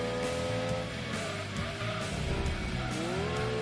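Tires squeal loudly in a long, wavering screech as a Mazda Miata oversteers in Gran Turismo 2, a steady engine drone underneath and the pitch sliding up and down through the skid.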